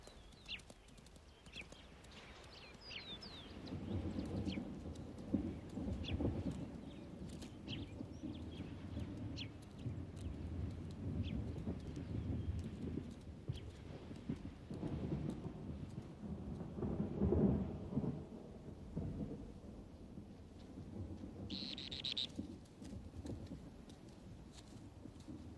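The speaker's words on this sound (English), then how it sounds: "Distant sounds hint at approaching rain" Distant thunder rumbling low and long across open Patagonian country before rain, several rolling swells under faint wind and scattered light ticks.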